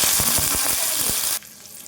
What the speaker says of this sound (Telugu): కొంచెం ఆయిల్ వేసుకొని టమాటా ఫ్రై చేసుకుందాము